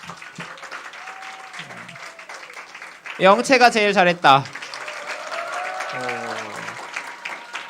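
Audience applause for group presentations at a youth retreat, a short loud burst of clapping in the middle that fades quickly, with a person speaking over the room before and after.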